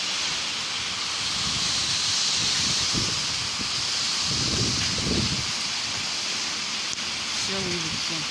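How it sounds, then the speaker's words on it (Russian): Strong storm wind of around 20 m/s, with heavy flooding in Golubitskaya, blows as a steady broad hissing roar for the whole stretch, with faint low rumbles and gusts and a few soft background noises underneath. "Ветер с такой силой"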